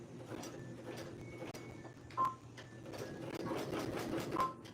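A sewing machine back-stitching to reinforce straps runs steadily and close by, its continuous mechanical whir punctuated by a couple of brief sharper clicks.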